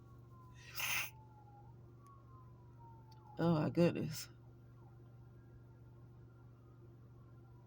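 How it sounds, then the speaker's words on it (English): Police sirens pass somewhere outside, a faint, distant wail that slowly falls in pitch beneath a steady indoor hum, while a person speaks briefly in short bursts. "I hear police cars"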